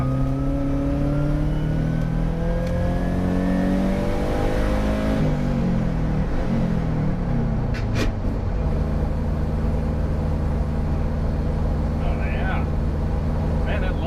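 A Subaru Loyale with an upgraded fuel pump accelerates under heavy throttle while merging, its engine droning and rising in pitch before settling into steady road rumble, with a person talking over it.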